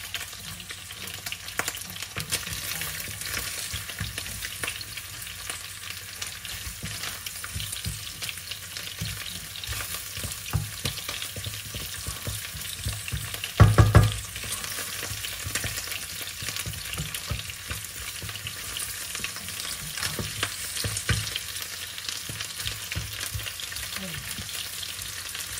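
Garlic fries in a pan with a continuous soft sizzle and crackle, steady and close. A brief clatter of stirring or a utensil sounds about midway, and there is no talking.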